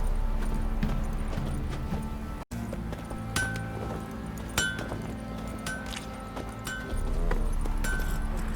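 Roach, the horse in The Witcher 3, gallops along with rhythmic hoof clops and light jingling of tack over a low steady ambient rumble, with a brief dropout partway through.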